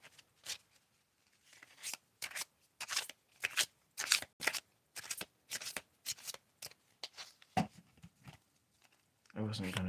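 Mini Morgan Greer tarot cards are shuffled by hand in quick papery bursts, a dozen or so close crisp riffles separated by short pauses, alone in a quiet room.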